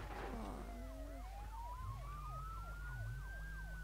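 Ambulance siren from a BeamNG.drive video game wails in a steady rising-and-falling pattern, loud and close, over a low engine hum with no talk.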